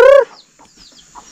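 Village chickens being fed sweet potato on a forest farm give one loud, close call, followed by scattered soft clucks in the quiet.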